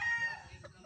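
Rooster on a gamefowl farm gives a short, strained crow-like call, close and moderately loud, with faint low background noise and no clear talk.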